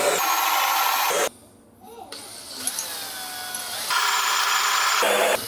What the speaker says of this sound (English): It takes a good sized drill.